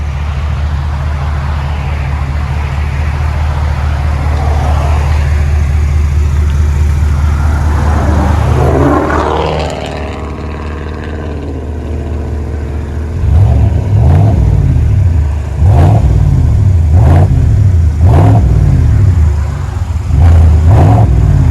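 A 2020 GMC Sierra AT4 pickup with a 6.2-liter V8 and Flowmaster exhaust idles with a deep, loud rumble, then gives a rising rev followed by several sharp, repeated throttle blips close by.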